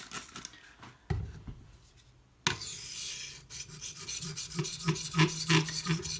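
Sharpening passes of a knife blade against a stone on a Hapstone T1 clamp-style sharpener: a quieter scraping stretch, then a louder run of dense, gritty rasping strokes close by, with no talk.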